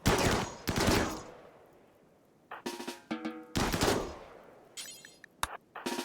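Gunfire from the colony-building video game RimWorld comes in loud rapid bursts of automatic shots, separated by quieter gaps and punctuated by a few single cracks, with no voices.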